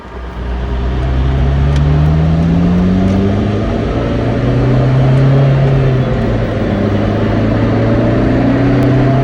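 A Honda Civic Si running on damaged tires drones along at speed with a loud, steady road and engine roar, its pitch rising and falling gently as it travels.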